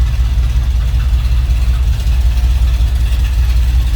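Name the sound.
1976 Ford F100 pickup 390 V8 engine idling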